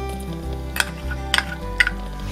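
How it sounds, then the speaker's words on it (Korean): A utensil stirs seasoning sauce for stir-fried dried squid in a pan, giving a few sharp scraping clinks over a steady low hum, close and distinct. "양념장을 풀어줍니다."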